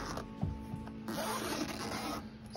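A zipper runs along a fabric dining chair cover in a few short raspy pulls close up, with light rubbing and handling sounds between strokes.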